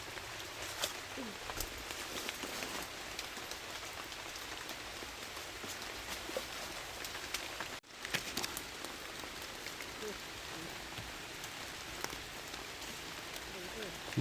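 Steady rain patters on surfaces nearby during mushroom foraging, a constant soft hiss with scattered drops, interrupted by a brief dip midway.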